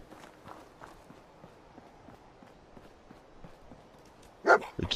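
In Fallout 4, a dog pads around with soft, quick footsteps, then a couple of sharp, louder barks or yelps near the end. The scene is otherwise quiet and has no talk.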